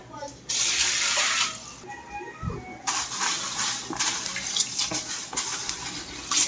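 A kitchen tap runs steadily as mung beans are washed, a bright loud gush of water that briefly cuts out and then resumes with splashing and sloshing.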